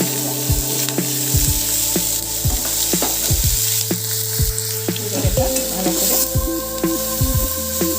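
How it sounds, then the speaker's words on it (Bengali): Grated onion sizzles and fries steadily in a pan after cumin seeds, with repeated scraping strokes of a stirring spoon. A voice speaks briefly over the cooking. "হালকা ভাজা ভাজা করে নেব।"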